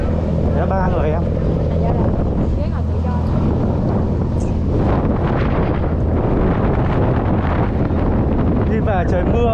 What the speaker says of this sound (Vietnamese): Trời mưa gió quá.